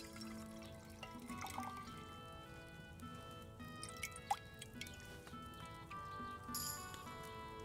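Liquid is poured and dripped while brewing an alchemy potion in Kingdom Come Deliverance 2, with soft trickling and dripping layered over ambient game music, plus a few small clinks and splashes.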